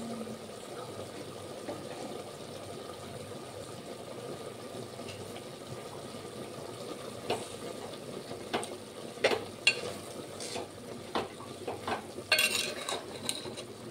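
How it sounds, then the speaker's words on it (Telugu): Ginger garlic paste going into a cooking pan, heard as soft scraping and stirring with faint clinks of utensils against the pan, quiet and close, with a few sharper knocks near the end. "అల్లం వెల్లుల్లి పేస్ట్ వేసుకుందాం. కొంచెం వేస్తాం"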